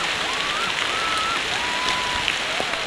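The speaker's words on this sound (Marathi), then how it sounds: "पायथ्याला पोचलो आणि जोरात पाऊस चालू झाला." Heavy rain falling at the foot of a hill near a Khandoba temple, a dense, steady hiss of constant rainfall with faint melodic tones drifting in the background.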